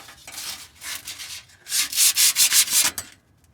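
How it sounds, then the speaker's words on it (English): A car exhaust pipe on a Lexus GX470 being hand sanded with sandpaper gives a series of rough, rhythmic back-and-forth scrapes, quieter at first and then louder and quicker, stopping at the end. "I'll just start with the traditional sandpaper, which I think is enough to get the job done"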